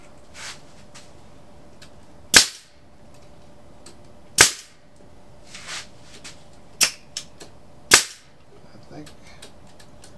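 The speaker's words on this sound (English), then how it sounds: "I was holding the staple gun too tight. It was cutting through the wire." A staple gun drives staples through wire screen onto a wooden Langstroth beehive bottom board, giving five sharp, loud snaps at irregular intervals with quieter handling clatter between them and a brief spoken remark.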